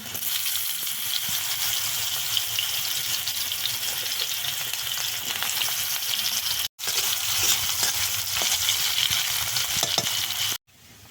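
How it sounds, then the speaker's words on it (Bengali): Mustard and green chilli paste frying in oil in a Bengali kitchen, a steady loud sizzle with stirring scrapes that breaks off twice briefly, no voices. "এগুলোকেও দেখো কষে নেব ওই তেলেই, লাল লাল করে একদম কষে নিতে হবে"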